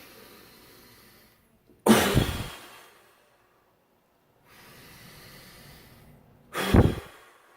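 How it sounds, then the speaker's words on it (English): Two deep, forceful breaths taken during a guided breathing exercise, each a loud rushing inhale-exhale burst separated by quieter airy breathing and a short silence, no talking. "2 more breaths. Ready? Breathe in."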